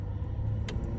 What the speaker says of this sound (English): We got a car coming up behind us.